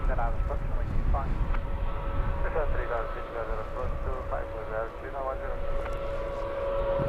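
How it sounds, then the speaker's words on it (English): A Wizz Air airliner taxis out for departure at London Luton Airport, its steady engine hum running throughout beneath continuous talk and radio voices. "As we watch this Wizz Air taxiing out for departure"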